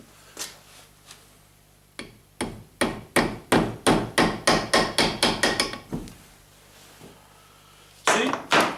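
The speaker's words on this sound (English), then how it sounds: "I'm going to tap that in." A hammer taps a part onto the axle of a Bosch DC dynamo, starting with scattered blows and building into a steady run of about a dozen sharp knocks, then a few more after a pause.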